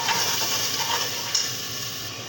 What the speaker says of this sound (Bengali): এবার ডাল দিয়ে সুন্দর করে মশলাটা কষিয়ে নেব